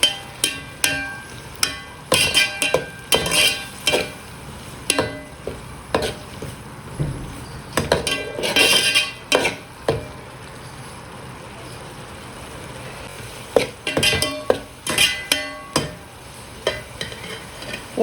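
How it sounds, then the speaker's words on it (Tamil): Garlic sautés in a pan for Madurai-style fish kuzhambu. A loud sizzle is interrupted by frequent clattering scrapes of a ladle stirring in bursts, with a quieter stretch in the middle and no talking. "பூண்டு நல்லா ப்ரௌன் கலராக வதங்கியிருக்கு"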